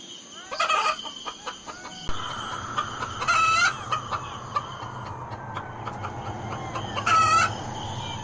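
Hens cluck repeatedly while a rooster crows loudly three times, each crow a long rising-falling call, over a steady farmyard hum.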